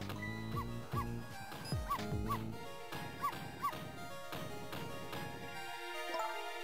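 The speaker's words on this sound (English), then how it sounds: "No, Missile, you're not supposed to bark." Cartoonish dog Missile from the video game Ghost Trick barks in a run of sharp, close yips, several in quick pairs, over a steady music bed with no talking.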